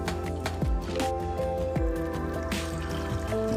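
Extra dark Italian roast coffee is poured into a cup, giving a steady liquid trickle with small dripping plops over a constant background music bed.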